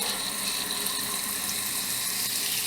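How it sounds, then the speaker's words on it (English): Water bleeding out of the cold faucet of a Jayco Pinnacle RV during winterizing, a steady, close hiss and splash of flow into a sink with a faint pumping whir underneath, continuous and even. "we're just going to bleed some of the water out. Do it on cold, do it out clear, just give it a second, let it pump through."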